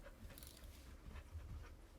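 A dog named Peeps pants close to the microphone, quick steady breaths with soft snuffly texture at low volume, no one talking.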